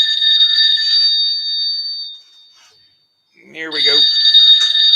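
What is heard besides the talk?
alarm clock ringing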